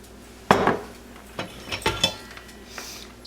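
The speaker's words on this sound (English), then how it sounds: "Just gotta mix this up." Flour and salt mixed for brownie batter in a bowl, a sharp clack of utensil on the bowl followed by several lighter scrapes and knocks, close and intermittent, no talking.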